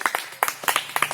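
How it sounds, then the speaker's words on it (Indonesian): A small class of students clapping for a group that has just presented, brief quick handclaps in short uneven clusters, moderately faint and with no talk over them. "kasih tepuk tangan dulu untuk kelompok 4 ya yang sudah presentasi"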